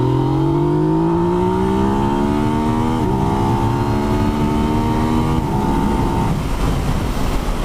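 A 2017 Yamaha MT-09 motorcycle accelerates hard in second gear, its engine note rising steadily and loudly with a brief dip near three seconds, then fading into wind roar near the end.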